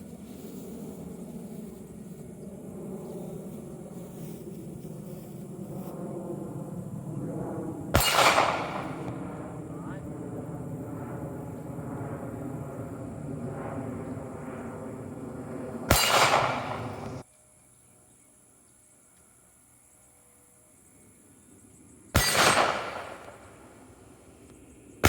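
Everyday carry handgun rounds hitting steel targets at an outdoor range, three sharp metallic clangs spaced several seconds apart, each loud and ringing briefly over a low background hum.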